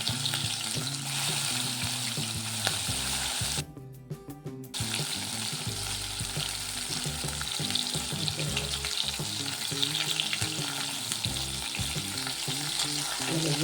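Stuffed okra (gutti bendakaya), Andhra style, fries in ghee in a pan with a steady sizzle, stirred throughout with scraping and clattering, a brief lull partway through, no talking.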